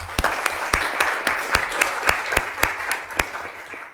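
Councillors at a council meeting applaud a community panel with a short burst of sharp, evenly spaced claps from a small group in a room, tapering off near the end.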